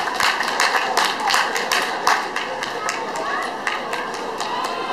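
Outdoor festival audience in Nagasaki applauding after a live stage performance: brisk, fairly loud clapping from many hands that rises to sharp peaks, then thins slightly, with crowd chatter beneath.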